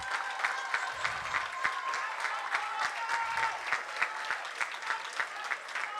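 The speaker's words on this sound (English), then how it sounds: "Keep clapping while the camera moves over each and one of them." Guests at a St. Croix JROTC military ball keep up steady applause, with individual claps distinct and rhythmic, fairly close and moderately loud, and a voice briefly audible underneath.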